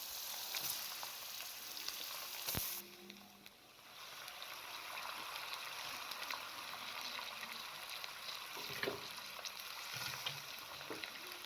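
Chicken pieces added to hot oil with whole spices sizzle and fry steadily in a pan, a continuous close crackle with a brief clatter early on, no talking.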